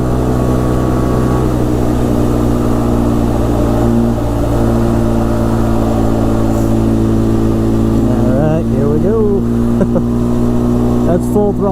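An ATV engine held at full throttle, maxed out at top speed, droning loud and steady with wind noise, and someone talks over it near the end.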